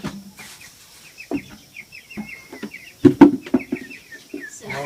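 A chicken clucks repeatedly up close in short, uneven bursts, with a louder squawk partway through and other birds chirping faintly behind it.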